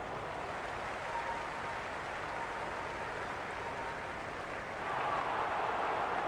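Crowd noise at a cricket match in the Cricket 26 game, India versus South Africa: a steady, distant wash of cheering and applause that holds level, then swells slightly louder toward the end.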